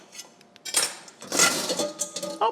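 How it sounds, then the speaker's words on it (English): Cakes being worked out of metal cake pans: close metallic clinks and scraping knocks in short irregular bursts, with brief quiet gaps between them. "Get these cakes out of these pans before I do that."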